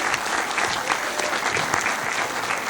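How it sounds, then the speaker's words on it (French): Dense, steady applause from the crowd at the Effet Star 2018 festival awards ceremony, loud and close, with no pause across the short stretch. "Donc un tonnerre d'applaudissements, s'il vous plaît."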